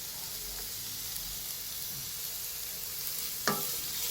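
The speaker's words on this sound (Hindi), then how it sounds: "और साथ में इसमें कैप्सिकम डाल रही हूँ। मैं थोड़ा सा सौते करूँगी" Capsicum sautés in a pan for egg fried rice, a soft, steady hiss with a faint stirring scrape near the end.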